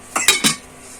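A lid on ceramic granite non-stick cookware at a trade fair clinks sharply three times in quick succession, close and bright, then goes quiet.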